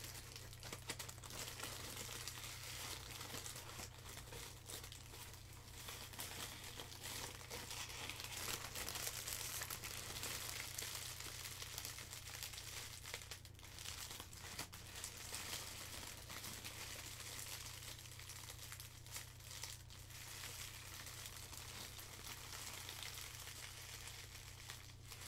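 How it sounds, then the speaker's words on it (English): Saran wrap type thin crinkly plastic is crumpled and handled close up, a continuous soft crackling and rustling with small bursts, quiet and alone with no talk over it. "So we have some Saran wrap type crinkly plastic."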